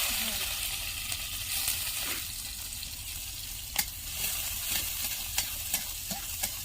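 Crushed onion and garlic fry in hot oil with a steady, close sizzle. Occasional sharp scraping taps of a stirring utensil against the pan cut through the hiss.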